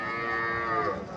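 A dairy cow moos at a cattle market in Mirshanni, Comilla: a single drawn-out, nasal call, fairly close and alone.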